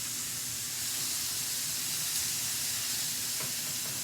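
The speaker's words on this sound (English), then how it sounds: "Hear that sizzle." Steaks sizzle steadily in a hot skillet, a continuous close hiss of frying with no talking.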